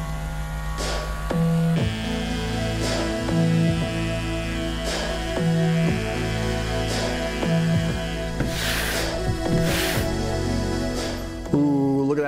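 An electric trimmer shaves down faux fur for a fursuit bodysuit, a steady buzzing motor hum that shifts in pitch and load in repeated passes as the blades run through the pile, close and continuous.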